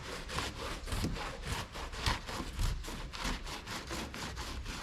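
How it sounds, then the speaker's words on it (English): An eraser wheel scrubbing years of adhesive residue off a car's body near the window trim, a steady rhythmic rubbing grind repeating in quick strokes, fairly faint and alone. "let's go get some of our 3M adhesive remover and see if we can kind of soften this up before we grab our eraser wheel"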